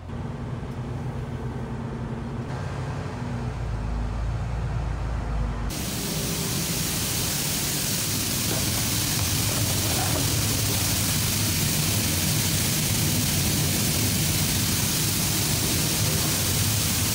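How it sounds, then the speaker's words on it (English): Peas being unloaded from a truck at a processing plant, a loud, steady roaring rush like heavy spray or pouring grain that fills the space, rising sharply after a quieter rumbling start and continuing unbroken. "really loud in there unloading peas"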